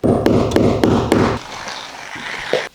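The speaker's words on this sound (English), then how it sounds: "And just simply snap a chalk line like that." A chalk line is snapped against a floor while a wall is being framed, four sharp taps in quick succession over a buzzing rattle, then a brief quiet stretch and one last small knock.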